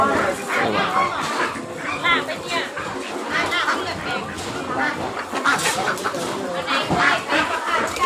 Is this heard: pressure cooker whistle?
no